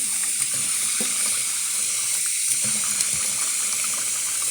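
Tap water runs steadily from a faucet into a sink while soap is rinsed off a face, a continuous close splashing hiss with small irregular drips and splashes throughout.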